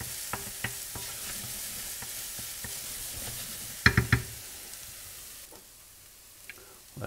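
Onion frying in oil in a pan for a chanterelle dish, a soft continuous sizzle broken by a few stirring clicks and a brief louder clatter midway, no voices.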